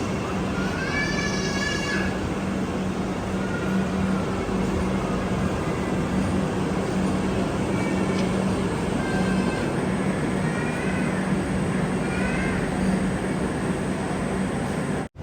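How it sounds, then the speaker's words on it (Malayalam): The Patna Express runs toward Vijayawada station, its steady loud rumble and rattle heard from inside the train, with occasional high squeals rising over the continuous noise. "ട്രെയിൻ ഇപ്പോൾ വിജയവാഡ റെയിൽവേ സ്റ്റേഷനിലേക്ക് എത്തിക്കൊണ്ടിരിക്കുകയാണ്."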